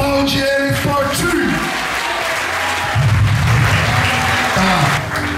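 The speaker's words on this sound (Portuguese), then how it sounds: "Aplaude ele forte" Congregation applauding strongly at a charismatic church service, a dense sustained patter of clapping that swells louder midway, with voices mixed in underneath.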